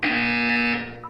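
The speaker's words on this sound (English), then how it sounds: "When you hear the buzzer, look down at the floor." A buzzer in the video game Portal 2, a loud, steady electronic tone sounding for about a second before cutting off.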